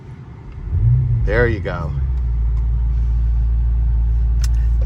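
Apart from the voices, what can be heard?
BMW M5 Touring engine sound in Sport Plus mode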